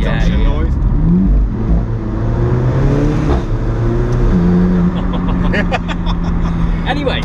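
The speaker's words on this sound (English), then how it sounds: "when you come off and you hear the wastegate close, you just get that induction noise." An Alfa Romeo 4C heard from inside the cabin gives a loud, continuous engine drone with rising and falling turbo and induction tones as the throttle changes, and a faint chatter of clicks comes near the end.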